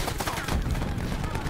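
Rapid gunfire in an online shooter game, dense continuous bursts of shots filling the whole moment, loud and close.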